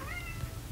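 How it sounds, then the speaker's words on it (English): A house cat meows at a closed door, one short muffled cry that stands out against a quiet indoor background. "my cat's meowing at my door."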